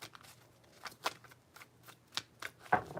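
Tarot cards being shuffled by hand in a quiet room, giving a few soft, uneven riffles and taps spread over a few seconds, faint and close.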